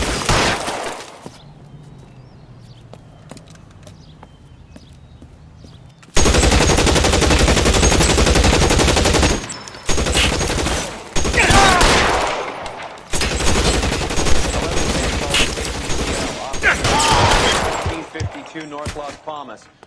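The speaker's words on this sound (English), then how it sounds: "Shots fired and officers need help at 1452 North Las Palmas." Heavy gunfire erupts in the video game L.A. Noire, loud bursts of rapid automatic shots mixed with shattering glass, starting after a quieter stretch and continuing in long barrages with short gaps, while voices speak at times.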